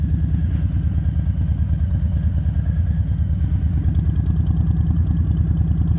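A 2020 Harley-Davidson Low Rider S rumbles at low speed while weaving through practice cones at night, its deep, loping V-twin throb close and loud and steady throughout.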